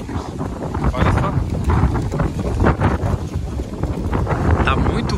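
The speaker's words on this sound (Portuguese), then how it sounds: "Tá muito vento, não tá?" Strong outdoor wind buffets the microphone in heavy, irregular low gusts that stay loud the whole time, with a voice talking through the noise.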